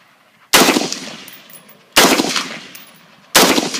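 Three single shots from an AR-15 rifle fired outdoors, each a sharp, loud crack with a short decaying tail, spaced about one and a half seconds apart.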